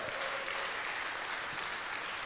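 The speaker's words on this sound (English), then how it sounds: "Give yourself a big applause once more." Hackathon audience breaks into dense, steady applause, a continuous wash of many hands clapping at even strength throughout.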